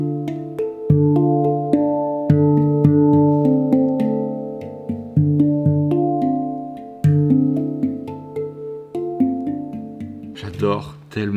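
Harmonic Art M8 handpan tapped by hand, ringing metallic tones that bloom and sustain as notes are struck one after another at a relaxed pace, close and full, ending with a few softer scuffing touches.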